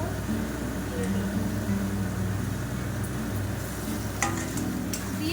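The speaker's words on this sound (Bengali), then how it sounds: "তারপরে পেঁয়াজ আর টমেটো আর লঙ্কার পেস্টটা দিয়ে দেব।" A paste of onion, tomato and chili goes into chicken frying in a pan, giving a steady close sizzle with light stirring scrapes and a background hum, and a voice speaks over it.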